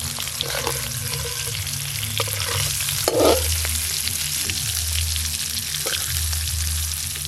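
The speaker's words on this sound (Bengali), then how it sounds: "করলাগুলো একটু উল্টে পাল্টে ভালো করে ভেজে নেব।" Stuffed bitter gourds fry steadily in hot oil, turned over in the pan and sprinkled with salt and turmeric; a continuous close sizzle runs throughout, with a few soft clanks and stirring scrapes.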